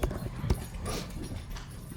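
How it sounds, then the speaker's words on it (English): Dogs playing nearby indoors, with scuffling thumps, paws on the floor and soft huffs in a busy, irregular stretch of movement. "Hey dogs, quit playing."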